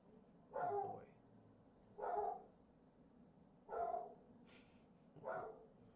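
A dog barks five times at an even, unhurried pace, each bark short and mid-pitched. It sounds a little distant and fairly faint, with quiet gaps between barks and no talk.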